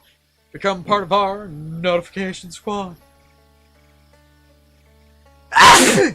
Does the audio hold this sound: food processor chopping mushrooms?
no